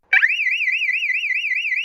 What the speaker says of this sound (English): the siren at nearly 100 decibels is extremely loud